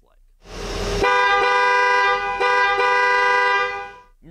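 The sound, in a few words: 1984 Mercedes-Benz 500SEC Town and Country car horn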